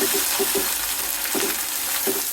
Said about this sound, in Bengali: তেল দিয়ে পেঁয়াজগুলি মশলাগুলিকে ভেজে